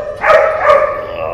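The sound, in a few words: dog barking in a fire station kennel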